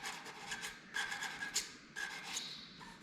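Very fine abrasive rubs back and forth over the frets of a Squier Strat, a quiet, close, rhythmic scratchy rasp in short strokes.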